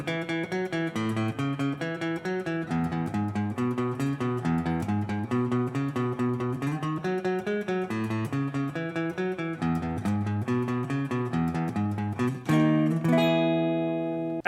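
An electric guitar plays the refrain riff of a song, a steady run of repeated plucked notes shifting in pitch and ending on a ringing sustained chord, with no voice over it.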